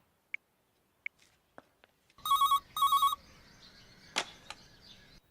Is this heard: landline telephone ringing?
yes